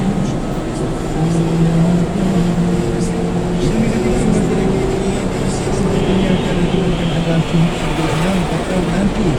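A bus engine drones steadily from inside the cabin during an express coach ride in Johor, Malaysia, with a loud, continuous low hum and faint speech underneath.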